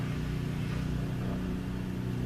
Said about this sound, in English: The occasional car blowing through.